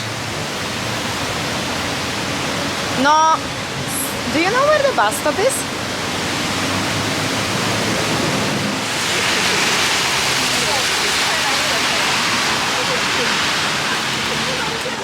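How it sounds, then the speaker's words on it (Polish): Heavy rain pouring at night on a Singapore city street, a dense steady hiss throughout, loud and close, with people talking briefly over it. "ale bardzo pada deszcz"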